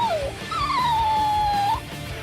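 A dog whimpers in the video game Bleach: Rebirth of Souls, giving a short falling whine and then one long, drawn-out wavering whine, clear and fairly close over a low background of game sound.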